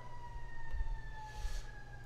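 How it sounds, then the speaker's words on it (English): Emergency vehicle sirens wail steadily outdoors at a middle distance, holding a sustained tone over low background rumble. "As you probably hear the sirens."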